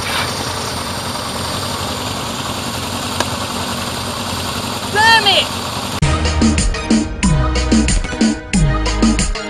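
A motorcycle engine idles steadily at close range, a constant rumble that changes character partway through as it is restarted, with people talking over it.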